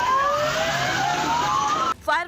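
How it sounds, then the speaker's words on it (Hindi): A fire engine siren wails steadily as the truck arrives at a large slum fire in Gurugram, loud and close over a dense rumble of traffic and crowd noise before cutting off abruptly near the end. "घटना की सूचना मिलते ही वहां दमकल की कई गाड़ियां भी पहुंच गईं।"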